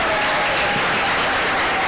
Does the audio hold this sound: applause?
yes